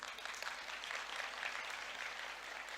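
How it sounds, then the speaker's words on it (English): An audience at a corporate awards ceremony gives itself a round of applause, a steady wash of clapping from a hall crowd lasting the whole few seconds, moderately loud and without speech. "give yourself a round of applause"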